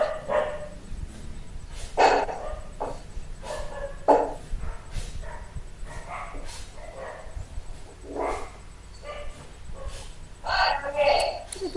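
Several dogs bark and yip in scattered bursts through a classroom setting, some close and loud, others further off, with people talking in between.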